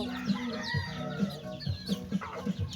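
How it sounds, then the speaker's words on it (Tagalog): Young chickens in a backyard coop cluck repeatedly, with several short low clucks in an irregular rhythm over a busy layer of higher chirping and cheeping from the flock, close and fairly loud. "Ang mga manok."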